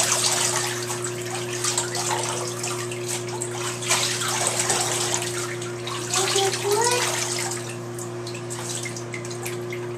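Tap water runs steadily into a tub while a dog is bathed, a constant rushing splash with a low hum beneath and occasional drips and sloshing.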